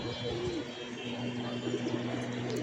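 Rooftop pigeons coo softly over a steady background hum, a couple of short warbling calls rising and falling in the brief stretch, fairly faint and alone with no talk.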